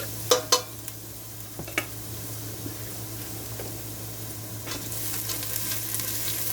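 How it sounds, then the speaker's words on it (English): Onion and garlic sauté in a pan in a homestead kitchen, giving a soft, steady sizzle. A few sharp clanks from utensils against the pan come early, and the frying grows slightly louder toward the end. "I just want to do this long enough to bring out the flavor and the scent and the oils in my onion and my garlic"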